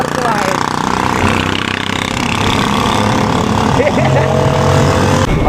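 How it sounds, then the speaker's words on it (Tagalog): Motorcycle engine droning steadily while riding, a loud continuous hum with slight shifts in pitch, under someone talking throughout. "Ang sarap magmotor-motor ngayon."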